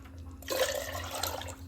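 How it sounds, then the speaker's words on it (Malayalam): Water gushes into a pot of tamarind water for Kerala-style rasam after a quiet moment, a close, bubbling pour that runs for about a second before easing. "ഇതിൽ ആവശ്യത്തിനുള്ള വെള്ളം ഒഴിക്കാൻ."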